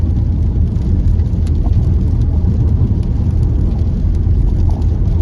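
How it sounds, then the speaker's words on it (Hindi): Monsoon rain falls steadily on a Suzuki Brezza during a road trip through green hills, heard from inside the car as a dense, even wash over a low road rumble, with no talking. "बेबी बारिश हो रही है"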